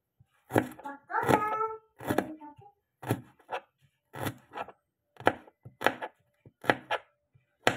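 A knife slicing shallots on a cutting board gives sharp, regular close chops, about a dozen evenly spaced, with a voice briefly speaking early on.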